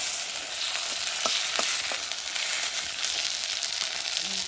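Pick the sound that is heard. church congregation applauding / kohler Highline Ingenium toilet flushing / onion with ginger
onion with ginger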